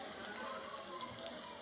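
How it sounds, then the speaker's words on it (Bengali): Chopped onions with a spoonful of turmeric sauté in a hot pan, giving a steady, soft hiss of sizzling oil, faint and continuous, with no talking. "পেঁয়াজটাকে একটু কষিয়ে নেওয়া হলো এবং হালকা একটু 1 চামচ হলুদ দেওয়া হলো"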